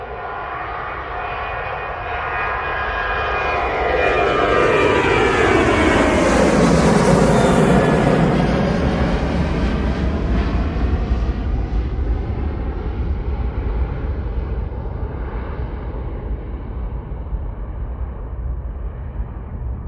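A Jet2 airliner departs Manchester Airport for Alicante, its engine roar swelling to a loud peak as it passes and then fading slowly into a long rumble.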